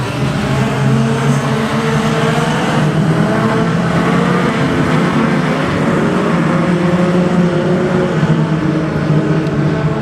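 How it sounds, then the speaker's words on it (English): Pack of 4-cylinder sedan speedway cars roaring off the start of a heat race at Kingaroy Speedway, a dense, steady wall of engine noise held at full loudness throughout with no talk. "Final heat race of the night for the 4-cylinder sedans. And we're off and running."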